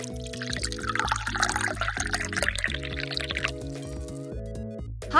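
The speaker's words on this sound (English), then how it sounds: "Empty a Fanta bottle and pour soap bubble liquid with orange food coloring into the bottle." Soap bubble liquid tinted with orange food coloring pours into an empty Fanta bottle, a close, continuous liquid trickle with gurgles and drips under a steady musical background.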